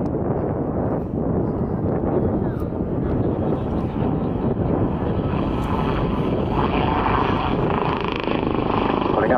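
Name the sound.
helicopter performing aerobatics at air show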